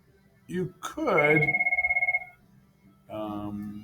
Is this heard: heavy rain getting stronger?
no